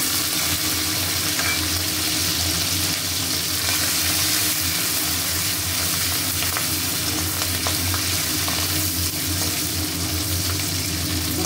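Shrimp sizzling in hot ghee with cashews and raisins in a pan, a steady, dense, close frying hiss that holds evenly throughout with no talking.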